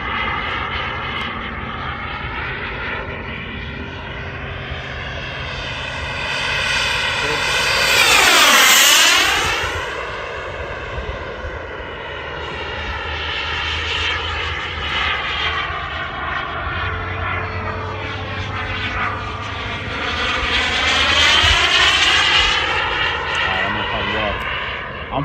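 An RC turbine-powered F-22 model jet roars at full throttle through repeated passes, its whine rising and falling in pitch as it sweeps close overhead and away, with talk in the background.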